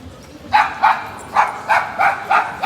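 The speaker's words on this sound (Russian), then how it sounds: "как лает собачка." A dog barks repeatedly, about six sharp barks in an irregular rhythm, fairly close and loud over a low background rumble, near a KiK shop in Nuremberg.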